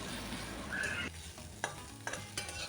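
Whole fenugreek, radhuni and ginger frying as a tempering in oil over a medium gas flame for tetor dal, a steady sizzle broken by stirring scrapes and a few sharp clicks of a spoon against the pan.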